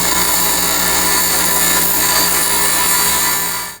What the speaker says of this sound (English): So I'm going to clean this up on a bench grinder.